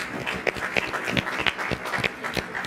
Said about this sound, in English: Also give yourselves a round of applause for attending tonight.